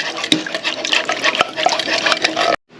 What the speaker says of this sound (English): we added another quart of water in